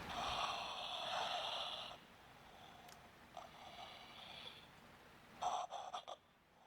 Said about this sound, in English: just get used to this breathing guy. This breathing, gasping, crying man.